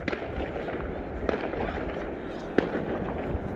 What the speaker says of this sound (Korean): 여기저기서 펑펑 소리 나니까